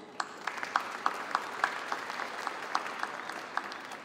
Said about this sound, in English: Another round of applause as well for our amazing speakers.